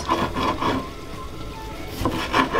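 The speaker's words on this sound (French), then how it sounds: "On coupe notre tomate." A knife cuts through an old, very soft tomato on a board, a few short, close, soft rasping slices with brief gaps between them.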